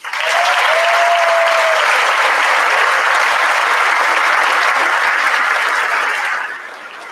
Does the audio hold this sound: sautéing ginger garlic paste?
no